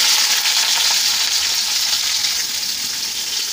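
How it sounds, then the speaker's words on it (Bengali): Chopped onion drops into hot oil in a pan and sizzles loudly and steadily, a dense hissing fry that barely eases over a few seconds, with no voices over it. "তেলটা গরম হয়ে গেছে, এবার এর মধ্যে দিয়ে দিচ্ছি কুচিয়ে রাখা পেঁয়াজ।"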